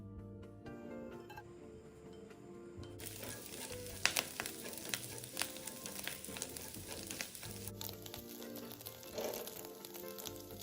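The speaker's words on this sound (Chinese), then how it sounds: "將備好的蝦米末倒入爆香" Minced dried shrimp fry in about two tablespoons of oil over medium heat, a soft crackling sizzle with scattered stirring clicks, fairly quiet and close, while faint music plays underneath.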